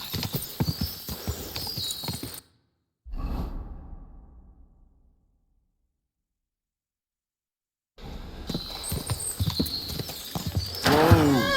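Hooves clop along in a brisk rhythm in the video game Kingdom Come: Deliverance II, drop to silence for several seconds, then resume with a whoosh and a horse's whinny.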